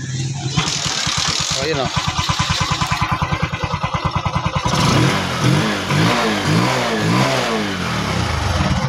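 A small engine, likely a motorcycle, starts after its carburetor is cleaned: rapid cranking pulses, then it catches and revs up and down loudly near the microphone, with someone talking over it.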